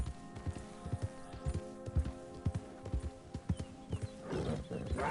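A horse in the video game Red Dead Redemption 2 gallops across open country off the road, its hoofbeats landing in a steady, rhythmic clip-clop close by, with a brief surge of noise near the end.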